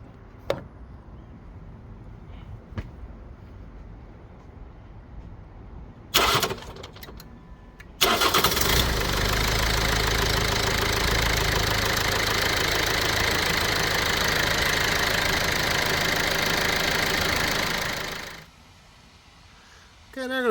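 A diesel car engine cranks briefly and then fires up during a battery test, settling into a loud, steady, close idle for about ten seconds before shutting off.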